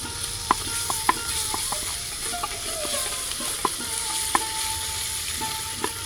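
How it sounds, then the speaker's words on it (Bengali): Onions fry in oil toward a deep brown, making a steady close sizzle punctuated by regular clinks of a utensil stirring against the pan. "পেঁয়াজটাকে একটু বেশি করে ফ্রাই করবো আমরা"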